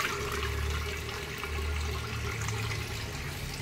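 Steady rush of water pouring from a tap for watering plants, continuous and fairly close, with no voices.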